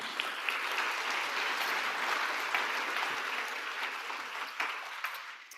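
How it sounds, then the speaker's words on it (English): Audience applause at the Global Youth Forum opening ceremony for a World Food Forum Ghana youth delegate named Nana, sustained even clapping from a large crowd with occasional louder claps, tapering slightly at the end. "A round of applause for Nana."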